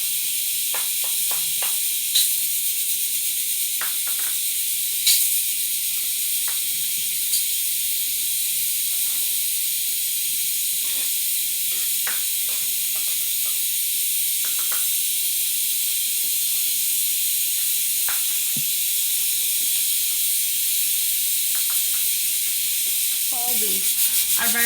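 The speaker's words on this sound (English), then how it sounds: "you'll use the pressure cooker, as we're doing over here" A pressure cooker hisses with escaping steam while tenderizing tough meat for cook-up rice, a steady, continuous hiss running throughout with a few faint clicks and knocks in the kitchen.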